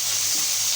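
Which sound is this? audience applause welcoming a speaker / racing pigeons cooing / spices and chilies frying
spices and chilies frying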